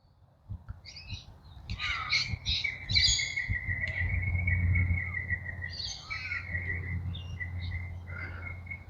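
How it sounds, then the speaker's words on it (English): Pink galahs screech and call in suburban parkland at South-East Ballajura, several harsh cries in quick succession followed by a longer drawn-out call, fairly close over a low background rumble. "They are pink galahs."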